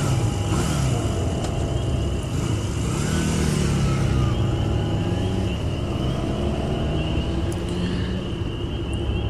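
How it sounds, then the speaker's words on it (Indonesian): A motorcycle accelerates hard at night on Cipajati road, its engine note rising steadily and staying loud and close throughout, with a broad rushing roar of wind and road noise beneath it. "aku langsung menancap gas lagi"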